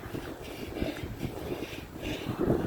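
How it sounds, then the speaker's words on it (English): Wind blowing outdoors on a street in winter, a steady rough rumble buffeting close against the microphone, with no talking. "it's just freaking wind."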